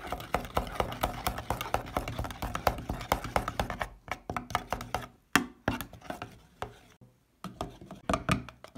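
Ground coriander is worked into a green masala for chicken broast with a dense run of quick, close taps and knocks, then slower separate strokes with short pauses between them.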